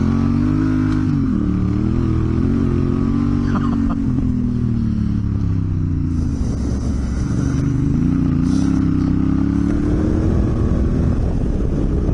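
A motorcycle engine drones loudly and steadily while riding, its pitch rising and falling with throttle changes and a little clatter.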